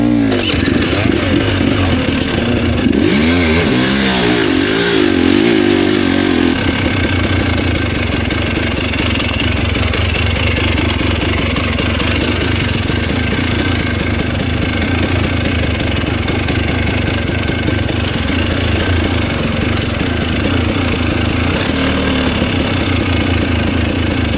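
A KOVI 330 Pro 2T two-stroke motorcycle being ridden while following a KTM, its engine running loud and continuous throughout with a brief rise in revs near the start, close to the microphone.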